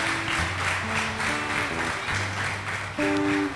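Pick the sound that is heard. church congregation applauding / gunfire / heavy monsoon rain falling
church congregation applauding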